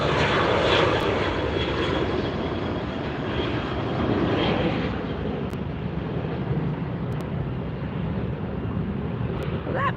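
A Southwest airliner jet climbs away after takeoff at LAX, its loud, steady engine roar filling the air and easing slightly as it recedes, with some wind noise and no talking.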